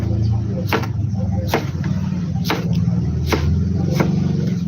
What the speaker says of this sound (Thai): หั่นแตงกวากันนะครับ